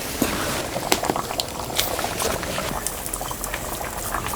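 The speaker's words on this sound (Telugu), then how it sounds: "ఒక పక్క సాంబార్ కూడా బాగా ఉడుకుతుందండి" A pot of sambar for an Andhra meal boils vigorously up close, with constant bubbling and popping bursts rising and breaking without pause and no talk over it.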